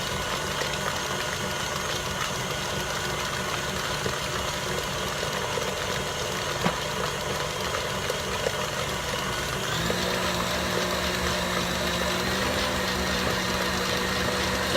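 A stand mixer whips Swiss meringue buttercream flavored with vanilla, giving a steady, loud motor whir with a rattling beater hum, shifting slightly in pitch partway through and running continuously with no talking.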